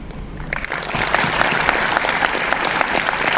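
A conference audience breaks into applause, starting quietly and swelling within half a second into a dense, sustained round of clapping that fills the hall.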